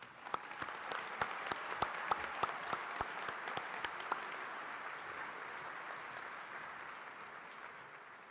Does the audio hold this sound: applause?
yes